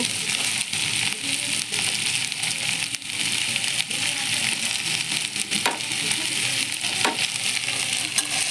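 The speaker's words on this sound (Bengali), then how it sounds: "বেগুনগুলো দিয়ে দিলাম, একটু নাড়াচাড়া করে এবার মশলাগুলো দেবো" Continuous close-up sizzling of eggplant frying in a pan, with occasional scraping and clinks as it is stirred.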